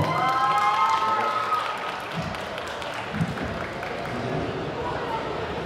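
Audience applause fills a cosplay contest hall, a broad steady wash of clapping from a crowd that holds at an even level throughout, with a faint tonal sound fading out near the start.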